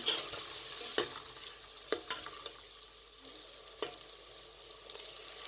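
Quiet sizzling of meat and spices frying in a pan for turnip curry, punctuated by occasional scrapes and knocks of a spoon stirring.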